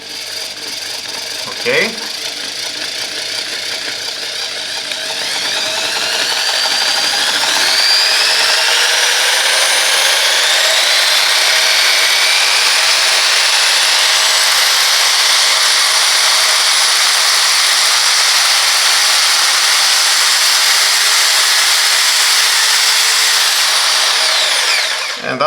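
Parkside PSBM 750 B3 hammer drill running continuously, starting at its lowest speed and ramping up to a loud, high-pitched whine at maximum speed, with a brief spoken word near the start.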